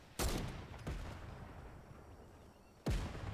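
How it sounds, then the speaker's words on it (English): Gunfire in the Fortnite video game: two loud, sharp shots about a second apart, then a pause and a third blast, each with a short decaying tail over low background noise. "Then comes down, guns blazing."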